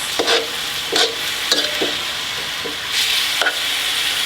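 Chicken and rice noodles with a soy sauce mixture for pad see ew, tossed in a hot pan: loud sizzling frying with several bursts of scraping and tossing, close up and with no talking.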